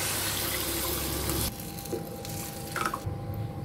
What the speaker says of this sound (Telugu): ఈ పోపు కొద్దిగా గోరు వెచ్చగా ఉన్నప్పుడు ఈ మజ్జిగని వేసేసుకోవాలి